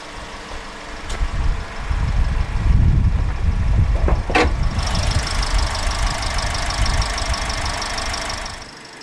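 A Perodua Bezza 1.3-litre naturally aspirated inline-4 petrol engine, dual overhead cam with 16 valves, cranks, catches and settles into a steady, loud idle with a faint high whine, heard up close.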